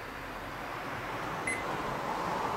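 A digital meat thermometer used for backyard smoking gives one short, clear beep when its set button is pressed, heard midway over a steady background hiss.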